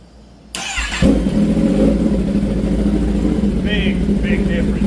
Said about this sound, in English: Let's go ahead and fire it up so you can hear the difference.